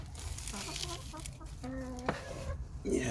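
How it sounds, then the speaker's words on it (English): Hungry backyard chickens cluck and call repeatedly at close range, a busy flock chattering in short bursts just ahead of feeding time. "They are hungry, these chickens, so let me just feed them."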